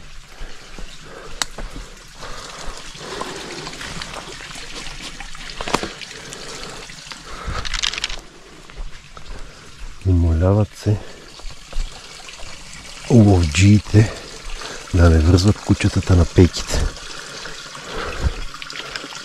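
Water flowing from a public drinking fountain (чешма) near Banishte, Bulgaria, a steady trickle and splash running through the clip, with people talking nearby in Bulgarian.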